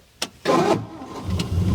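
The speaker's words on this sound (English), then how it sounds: "the starter's still weird, but it cranks" An old car with a weak, odd-sounding starter in sub-zero cold: a short click, then a brief crank before the engine catches and settles into a rough, steady idle, close and loud.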